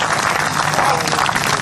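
A live comedy audience at a Hindi stand-up and poetry show breaks into dense, continuous clapping, loud and sustained for the whole moment.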